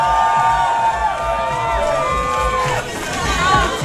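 Crowd at the rock paper scissors final of the 2012 East Coast Beard & Mustache Championships cheering and whooping for the champion, rising shouts over a lively babble of voices.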